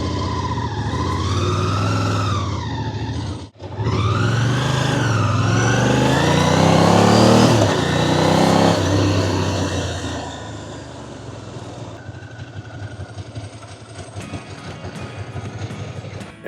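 A Ducati motorcycle engine runs close by, revving up and down in swelling surges. It cuts out for an instant, roars back with a strong high rev, then drops to a rougher, lower idle.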